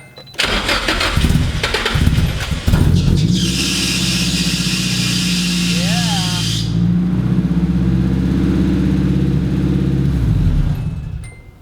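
A Nissan 240SX coupe engine cranks and fires after a battery relocation, then settles into a steady, loud, close idle that runs alone for several seconds before cutting off.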